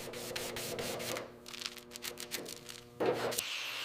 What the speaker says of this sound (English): Sanding removes weakness layer by layer without rushing the process.